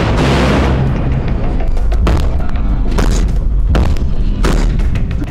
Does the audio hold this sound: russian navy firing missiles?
yes